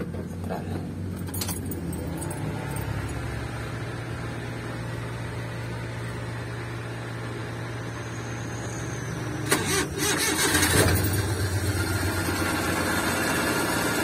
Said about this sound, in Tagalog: Inaamandar na yung ating makina.